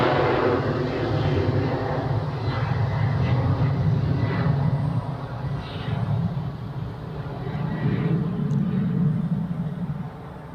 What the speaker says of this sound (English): A takeoff on runway 28.